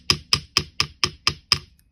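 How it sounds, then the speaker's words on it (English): Jewelry wire is struck with a hammer in seven sharp, evenly spaced taps, close-up and ringing briefly, followed by a moment of quiet. "And bring the hammer around."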